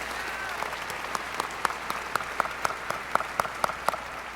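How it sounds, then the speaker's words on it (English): A crowd at the 2011 Hebron High School graduation ceremony applauds school administrators, with steady, sustained clapping and sharp individual claps standing out throughout. "How about a round of applause for these people?"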